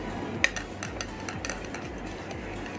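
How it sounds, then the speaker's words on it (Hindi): A hair protein mask mixture being stirred in a bowl, with repeated soft scraping and light clinking of the utensil against the bowl in an irregular rhythm, one sharper tap early on, close and quiet with no talking. "अब इसको हम जब तक मिक्स करेंगे जब तक ये एक क्रीमी फॉर्म में ना आ जाए"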